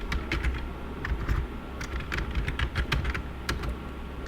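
Steady computer keyboard typing as a SQL query is entered, with irregular bursts of keystrokes and a few louder clacks, close and moderately loud, with no voice over it.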